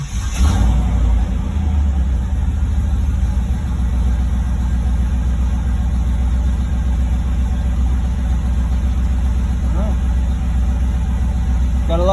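LT1 V8 car engine idling right after a cold start, a steady low rumble holding evenly throughout, close and continuous.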